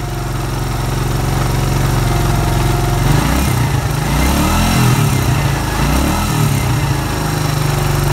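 A 1996 Suzuki Quad Runner ATV engine idles normally up close, a loud, steady mechanical chug that shifts pitch slightly midway, with no speech over it.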